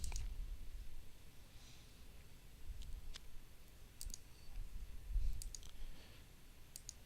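A computer mouse clicks in quick, scattered pairs while splitting an area in mapping software, crisp and close against a quiet background hum.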